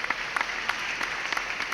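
Brief, moderate applause at an engineering design competition, scattered individual claps standing out over a thin steady wash of hands.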